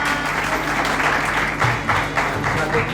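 An audience at a book ceremony in Nanded applauds steadily in a hall. The clapping is dense and continuous throughout, loud and close, with faint background murmur.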